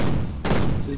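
Gunfire in the 2006 video game Prey, a brief dense burst of shots with a sharp crack in the middle, loud and close, no talking.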